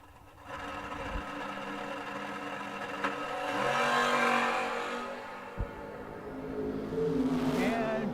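A Vega door car at a drag racing event revs up and launches, its engine climbing through rising, strained pitches in steps and then fading. The run is loud but heard from a distance, with no talk over it.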